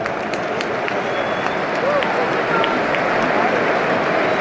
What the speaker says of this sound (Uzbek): City muxlislari Abduqodir chiqishi bilan qarsaklar bilan qarshi olishdi.